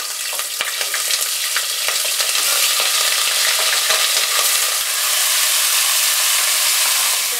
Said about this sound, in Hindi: इसे अच्छी तरह से हम ऐसे भून लेंगे तेल में